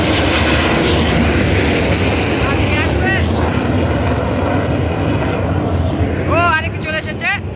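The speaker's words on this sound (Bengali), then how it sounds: "কিন্তু F7 চলে এসেছে আমাদের মাঝে" An F-7 fighter jet roars over an air show, a loud continuous engine rush that fades as it passes, with people talking underneath.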